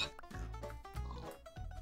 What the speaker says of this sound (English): Kill the pig, kill him, yes.